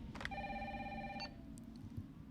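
A phone in the Resident Evil 3 Remake video game rings in a short electronic burst, moderately loud over a low ambient rumble, fading out to quiet background without any talking.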